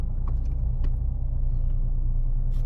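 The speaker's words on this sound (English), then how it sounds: "So if we just move the car forward a bit" A 2023 Mercedes-Benz A200d diesel sedan creeps forward at low speed, a steady deep engine rumble heard from inside the cabin with a few faint clicks and no talking.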